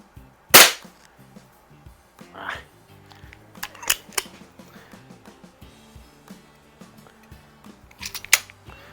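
Spring-piston and CO2 air pistols, a Predom Lucznik springer and an Umarex Browning Buckmark, firing several sharp single shots at uneven intervals, loud and close, with someone talking between them.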